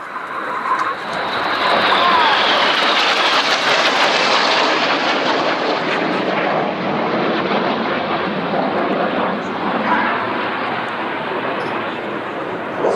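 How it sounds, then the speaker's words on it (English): Red Arrows jet aircraft descend about 100 feet above the runway at an airshow, making a loud, sustained roar that swells and then slowly fades as they pass low overhead. "These four aircraft are descending just 100 feet above the runway. They're now closing at 800 miles an hour."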